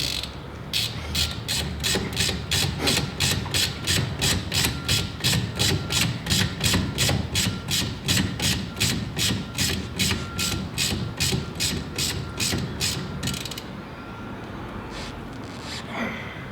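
A ratchet clicks in fast, regular strokes while tightening rotor and caliper bolts on a 2002 Chevy Silverado front wheel, loud and close for about thirteen seconds before it stops.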